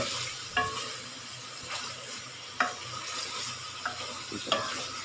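Steady sizzling of food frying in a pan as table salt is mixed in, with a few sharp scraping clicks of a spoon stirring at irregular intervals.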